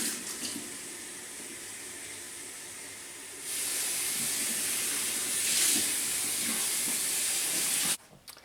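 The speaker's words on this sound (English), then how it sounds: "So we're just going to rinse." Water runs steadily from a tap over a synthetic wig being rinsed in a sink, a broad hiss that grows louder and fuller partway through before cutting off near the end.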